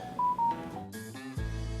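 A phone sounds a short electronic alert of a few quick tones, close and clear, ending with a low thump.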